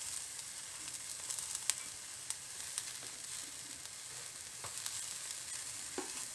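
Asparagus sizzles steadily in a hot, dry cast iron skillet with no oil, a continuous crackling hiss dotted with sharper pops and occasional stirring clicks, close and alone without speech.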